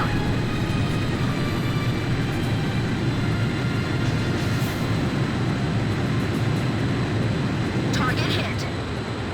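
A loud, steady aircraft engine roar from a video game rumbles throughout, building like a plane powering up, with voices talking over it.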